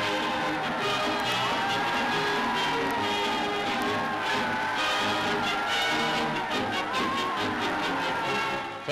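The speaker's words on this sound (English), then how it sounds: "Jumping aboard the vehicles, the wildly excited crowd swamp our troops with the warmth of their welcome" A wildly excited crowd in liberated Tunis welcoming troops in a wartime newsreel, a dense continuous roar of cheering and shouting voices that stays loud throughout.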